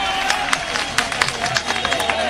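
A crowd at a political rally welcome bursts into dense, sustained applause, a steady crackle of many hands clapping with no single voice standing out.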